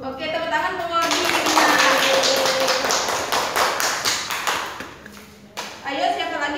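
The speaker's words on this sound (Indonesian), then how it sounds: "Oke, tepuk tangan buat ibu." Pupils in an elementary Islamic classroom clap together in a burst of quick, close, rhythmic hand claps, with a teacher and children speaking before and after.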